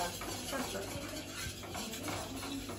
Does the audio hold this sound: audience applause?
no